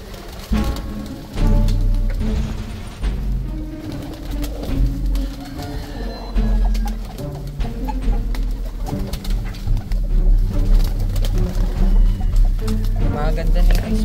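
Ice pigeons on a pigeon farm give repeated low, rolling coos throughout, near and fairly loud, with other birds and faint background noise mixed in.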